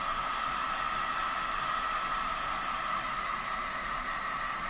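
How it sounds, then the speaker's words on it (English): A heat gun or dryer on medium fan and medium temperature blows over a freshly painted steering wheel, giving a steady, even airy hiss with no pauses. "we're going to go on for a medium fan speed, medium temperature, and we're just going to dry that area out"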